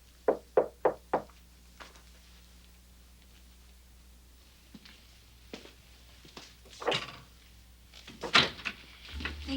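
Four quick, sharp knocks land on a door, followed by quieter scattered bumps and thuds, as if the door is handled and opened.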